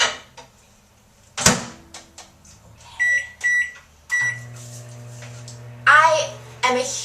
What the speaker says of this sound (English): Put both the top and the bottom piece into the microwave